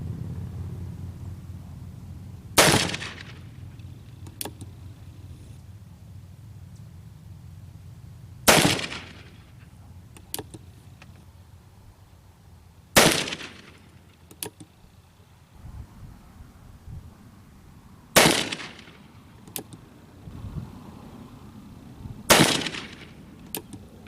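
An Uberti 1860 Army black powder revolver fires homemade powder with juniper charcoal behind .457 round balls, five sharp loud reports spaced several seconds apart, each with a short echoing tail over quiet outdoor background.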